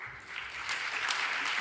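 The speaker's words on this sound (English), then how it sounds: "Please applaud Björn Geldhoff, Natalia Woff, Svetlana Gritsenko" Audience applause at a brainstorming event, a short burst of clapping that starts softly and swells into a steady, moderately distant patter of many hands.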